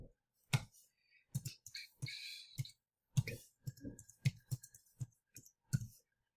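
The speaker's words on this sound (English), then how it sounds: "I'm just gonna type away here." Numbers are typed into a computer keyboard as sharp, separate key clicks in short irregular runs with pauses between them, close and fairly quiet in an otherwise silent room.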